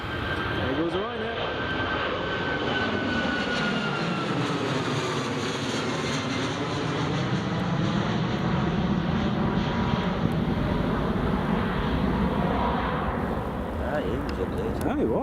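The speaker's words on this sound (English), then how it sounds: "There goes the Ryanair." A Ryanair airliner passes near an airport, its engines making a broad, loud drone that swells and holds, with a faint whine sliding downward, while people chat underneath.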